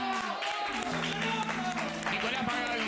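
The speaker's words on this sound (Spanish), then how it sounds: "Tardó, pero llegó el aplauso" A studio audience breaks into applause, a steady wash of many hands clapping at once that sounds somewhat distant and muffled, with a voice faintly underneath.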